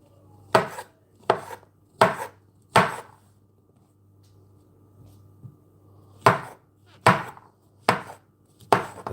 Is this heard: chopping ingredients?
yes